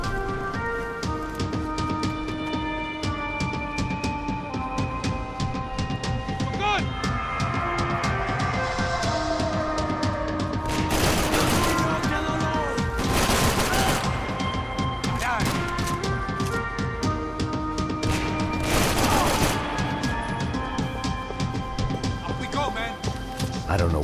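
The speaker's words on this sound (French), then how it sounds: "Il est vraiment puissant ce fusil." Heavy rifle gunfire from the video game Max Payne 3: a few loud, sharp bursts stand out over a dense bed of game music and effects, with voices talking at points throughout.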